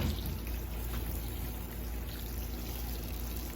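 A soft, steady pour of water runs continuously for a few seconds into a potted propagated pineapple plant, a gentle hissing trickle heard up close with no talking.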